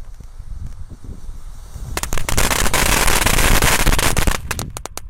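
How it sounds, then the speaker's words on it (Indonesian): A rapid string of firecrackers crackles and pops for several seconds outdoors during Ramadan, loud sharp bangs tumbling over one another before trailing off into scattered snaps. "menyalakan banyak sekali mercon guys"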